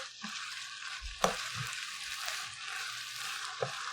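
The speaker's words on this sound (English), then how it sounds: "And stir fry one more." Spicy Korean squid with sesame leaves is stir-fried in a pan, giving a soft, continuous sizzle with a few sharp knocks and scrapes from stirring, quiet and close, with no talking.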